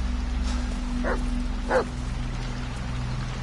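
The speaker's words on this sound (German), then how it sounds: "Blöder Hund, ey." A dog in the horror video game Blair Witch gives two short yelping barks in a quiet outdoor scene, with a steady low hum running underneath.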